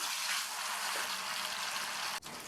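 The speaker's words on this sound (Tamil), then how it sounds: "வாழைக்காயை இதில் கொஞ்சம் கொஞ்சமாக சேர்த்து பொரித்து எடுத்துக்கணும்" Steady broadband crackle of raw plantain slices frying in hot oil, continuous and close, with a brief dip near the end.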